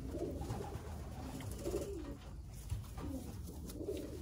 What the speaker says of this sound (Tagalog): Gandang ibon to.